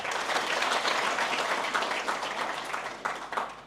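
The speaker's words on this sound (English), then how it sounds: "I invite all of us to applaud the chief guest for those remarks" An audience at a Kenyan ethics and integrity conference claps in a sustained round of applause, dense and steady at first and then thinning and easing toward the end, with no speech over it.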